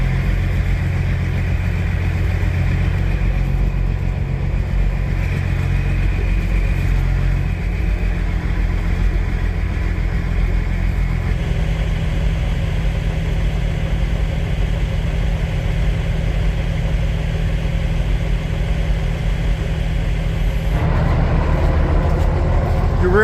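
A truck engine that has just been cranked settles into a steady, loud, low rumbling idle. The tone shifts slightly partway through, and a faint voice can be heard in the background.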